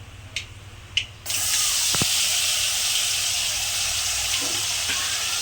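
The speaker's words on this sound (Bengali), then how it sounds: "কড়াই তেল দিয়েছি, একটু কালো জিরে দিলাম, লঙ্কা দিলাম, দিয়ে দিলাম পেস্ট করে রেখেছিলাম।" A ground paste of cashews, melon seeds, poppy seeds, raisins, ginger and chili hits hot oil with nigella seeds and chili in a wok, bursting into a sudden loud, steady sizzling hiss after a few light clicks.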